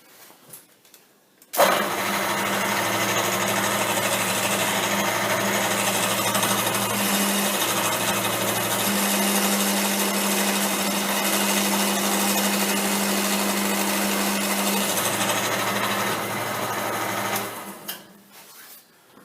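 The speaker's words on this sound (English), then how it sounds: "we're just drilling our series of 6 holes" A drill whirs loudly and steadily for about fifteen seconds, boring a series of holes on a rotary table, its pitch shifting slightly as it cuts, then winds down to quiet.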